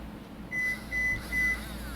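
A vibra seeder set to high vibrates in three short, steady buzzing bursts with brief pauses between them, close and clear against a quiet indoor background while seeds are sown.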